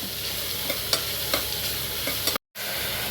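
Onions sautéing in oil for mushroom biryani, stirred until golden, produce a steady close sizzle with faint scraping stirs, cut by a brief moment of silence near the end.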